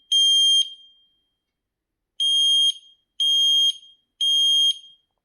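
A smoke detector sounds its self-test alarm: four loud, piercing high-pitched beeps, the first followed by a long pause, then three more in even succession, each about half a second long, with no voices.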